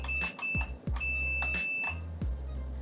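Steady electronic beeping tones repeat with a few sharp clicks and a low hum underneath, close and fairly loud with no talking.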